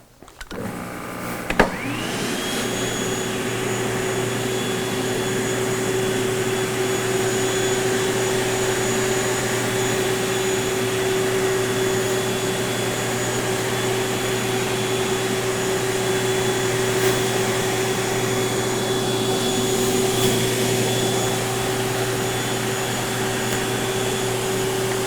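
A Bona Power Scrubber floor-cleaning machine with spinning cleaning brushes and a solenoid fluid release runs steadily with a loud, even motor whine and hum after a brief start, continuing unbroken throughout with no talking.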